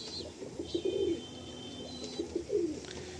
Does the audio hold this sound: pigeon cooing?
yes